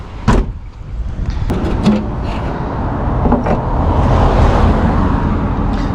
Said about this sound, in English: What I'm gonna do is actually open the engine bay real quick.